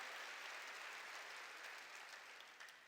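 A church congregation breaks into sustained applause during a worship service, a dense, steady wash of clapping from many hands that carries on throughout and eases off slightly near the end.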